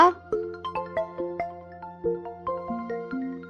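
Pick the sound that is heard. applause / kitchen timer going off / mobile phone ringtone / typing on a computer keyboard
mobile phone ringtone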